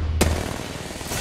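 A single sharp frag grenade blast in Apex Legends, loud and close, with a burst at the start followed by a dense, sustained roar of gunfire and battle noise.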